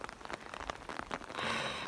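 Rain patters on a tent at a lakeside woodland campsite in windy, unsettled weather, a soft, dense crackle of drops that swells into a heavier, hissing shower toward the end.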